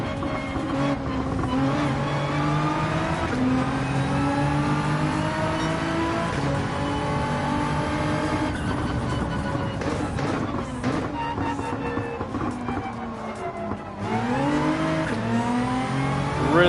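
Nissan GT-R race car in Gran Turismo, its engine revving and shifting continuously with harmonic pitch rising and falling through gears, loud and steady across the whole stretch with occasional tire squeal.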